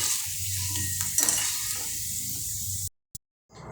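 Masala ingredients sizzle in a pan while being fried for a corn flakes mix, a close, moderate hiss with a few soft stirring scrapes, then an abrupt cut to near silence before the sizzle returns faintly.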